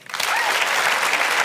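Loud, full audience applause at a medical course lecture, rising quickly and holding as a dense, sustained clatter of many hands.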